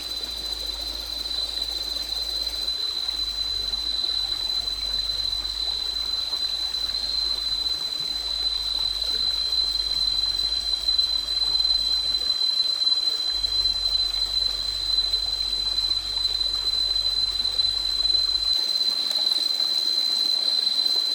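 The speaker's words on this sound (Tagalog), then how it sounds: "Nasa tabi ba naman tayo ng batis eh." A mountain stream in the Caraballo Mountains flows with a steady, broad rushing wash that holds constant throughout, alongside a faint continuous high tone and low rumble, with no talking.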